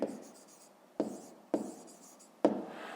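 Pen or chalk writing out a subtraction equation, heard as four sharp taps and scratchy strokes spaced unevenly over a few seconds, close and fairly quiet.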